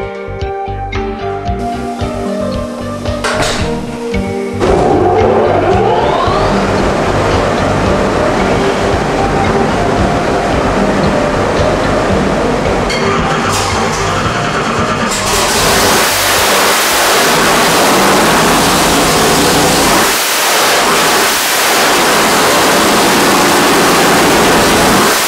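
Nelson Racing Engines 632 big-block Chevy with nitrous, rated around 1100 horsepower on pump gas, running close and loud. A rough, quieter start gives way to a sustained roaring blast with rising revs that grows harsher and louder toward the end.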